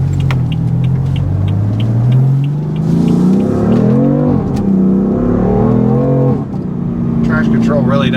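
BMW F82/F80 M3/M4 accelerating hard, its engine note rising in pitch and dipping between gears, loud and close. Someone talks over it for much of the time.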